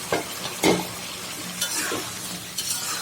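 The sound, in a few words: chicken added to cooking bottle gourd in a pan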